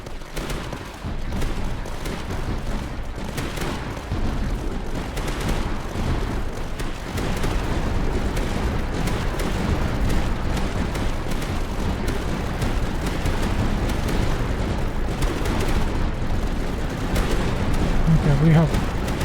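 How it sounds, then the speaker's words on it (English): Reaper cannons and big base guns fire nonstop in a Tower Dominion battle, a dense rumbling barrage of overlapping blasts and booms that grows slightly heavier toward the end. "guns in the base are doing work"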